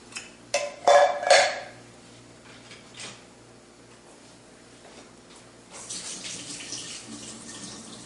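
Liquid from canned green beans drains into a cooking pan: a few sharp splashes and clunks at first, then a quieter, continuous pouring trickle close by.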